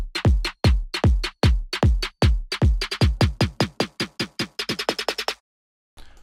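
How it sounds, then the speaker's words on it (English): A snare loop and kick drum form an electronic dance build, hits accelerating from steady beats into rapid-fire rolls before cutting to a brief silence and a final hit, loud and alone. "And then the main two build sounds within this are this snare loop and this kick."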